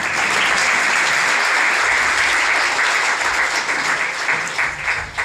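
An audience at a meritorious student award ceremony in Bhopal claps loudly and continuously, a dense wash of hands applauding that tapers slightly near the end.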